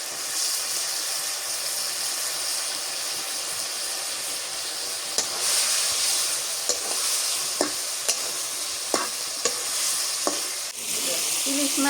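Hilsa fish sizzles steadily in a pan with turmeric, onion-garlic paste and a little water, the constant frying hiss broken by several sharp clicks of a spatula stirring, close and with no talk.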